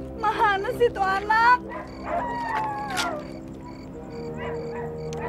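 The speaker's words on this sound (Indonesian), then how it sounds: "Itu suara anjing kan" A dog barks and yips in a quick cluster near the start, then whimpers and howls faintly farther off outdoors at night, with people talking over it throughout.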